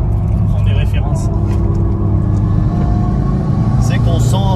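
A Mitsubishi Lancer EVO 8 rally car driving on an old rally stage road, heard from inside as a steady low engine and road rumble, with someone speaking over it.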